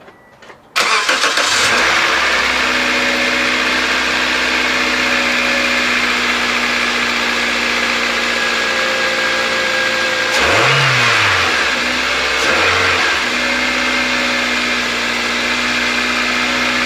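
A 2006 Toyota Corolla engine with new spark plugs cranks, catches and settles into a steady close idle, with two brief revs midway before returning to a smooth hum.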